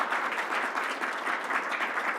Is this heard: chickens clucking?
no